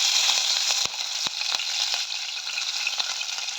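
Green chilies hit hot oil with whole spices (cloves, shahi jeera, cardamom, cinnamon, bay leaf) for a Telangana-style boti curry, giving a loud, steady sizzle and crackle with a few sharp pops, heard alone.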